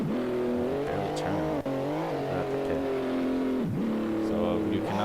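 A Formula X race car in a racing video game drones with a steady, sustained engine tone that shifts pitch through gear changes and revs, with a brief dip partway through.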